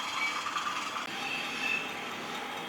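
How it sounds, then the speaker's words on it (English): Hornby model train with DCC sound pulling CDA hopper wagons in EWS livery, giving a steady, fairly loud rolling rumble with faint squeals throughout. "Obviously this one's got DCC sound, as you can hear"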